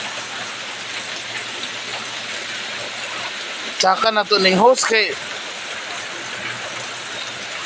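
Strong tropical rain pours in Bindoy, Philippines, a dense continuous hiss of water near a creek, broken briefly midway by someone talking over it.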